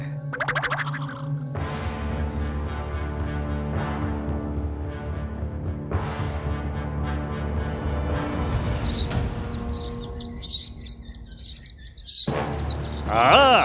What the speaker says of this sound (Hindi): ये तो बहुत ही दुर्लभ जाति के पंछी दिखते हैं